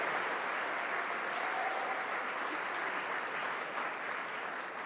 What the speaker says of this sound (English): Howard Zemsky, give him a round of applause because he is the man who started it.